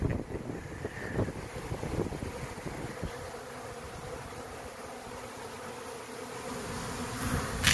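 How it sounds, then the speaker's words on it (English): A swarm of bees buzzes amid gusting wind outdoors, a steady insect drone mixed with rumbling wind buffeting the microphone throughout, no voices. "this could be a swarm, and they're just disoriented from the wind and the sun not being fully out"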